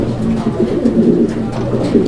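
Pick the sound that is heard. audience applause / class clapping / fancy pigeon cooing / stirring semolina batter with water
fancy pigeon cooing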